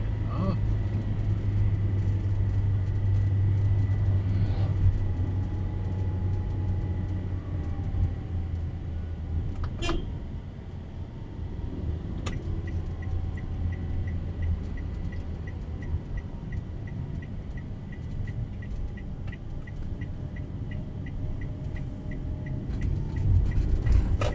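Evening traffic jam on Soekarno Hatta road in Malang, a steady low rumble of idling and creeping engines with occasional clicks and a turn-signal tick, heard from inside a vehicle while people talk.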